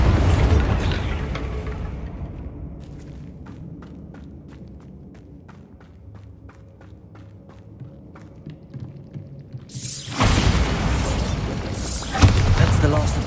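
A Bombarda spell explodes in Hogwarts Legacy with a loud booming burst, then a quieter stretch of rapid ticking and small crackles before a second roaring, noisy blast swells up near the end.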